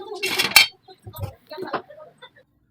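Dishes and metal utensils are washed after a meal: a few close, sharp clinks and clatters come in brief, irregular bursts separated by short pauses.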